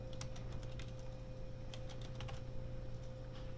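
Quick, light keystrokes clatter on a computer keyboard in short uneven bursts with brief pauses between, soft and close over a faint steady background hum.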